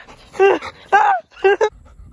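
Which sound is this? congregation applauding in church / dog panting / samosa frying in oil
dog panting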